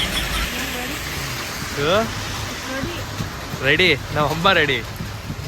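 Steady rain falls in a continuous broadband hiss outdoors as a family gets ready to leave for a wedding, with voices talking over the downpour.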